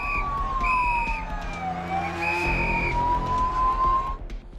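An ambulance siren in Bhavnagar wails, rising and falling continuously, loud and close, over steady low traffic rumble.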